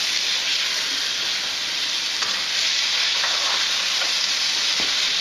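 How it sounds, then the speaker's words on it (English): Garlic and carrots sauté in a pan with a steady, close sizzle and frying hiss that runs without a break, with a few faint utensil taps along the way. "I'm just going to saute that."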